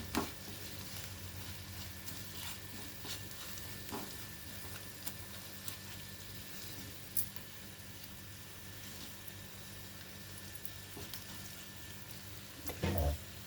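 Ginger garlic paste frying in a pan for a black-eyed pea and onion curry. A quiet, steady sizzle runs throughout, broken by occasional soft stirring scrapes and a louder clatter near the end.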